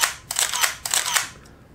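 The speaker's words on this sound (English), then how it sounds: "Compose your shot, push the shutter on the grip." Several rapid mechanical shutter clicks from a Minolta X700 film camera, each followed by a short whirring wind from its Motor Drive 1, repeating in quick succession, close and clear.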